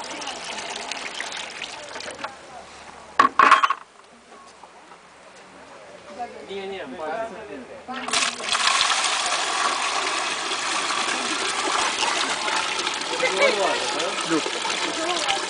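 Water drains from a basin with a splashy, trickling swirl that grows fuller and steadier in the second half, while a person talks nearby.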